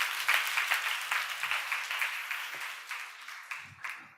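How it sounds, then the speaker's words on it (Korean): A church congregation claps during a sermon, a burst of applause that gradually thins and fades, with scattered individual claps trailing off at the end and faint low voices. "우리 박수 한번 쳐주시길 바랍니다"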